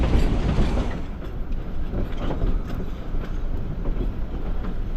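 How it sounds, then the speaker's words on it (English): Narrow-gauge logging train with rails 36 inches apart, rolling along a mountain sugar pine railroad; a steady, dense rumble and rattle of wheels on track, continuous and close, with no voices. "The narrow-gauge railroad has rails that are 36 inches apart."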